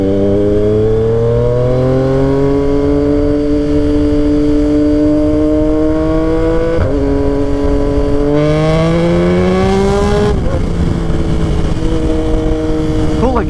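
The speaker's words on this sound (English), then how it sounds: "I just can't get over the sound of that exhaust." A Yamaha XSR 900 motorcycle's exhaust drones loudly while riding, engine pitch climbing through gears with shifts and a strong rev surge near the end, wind noise underneath.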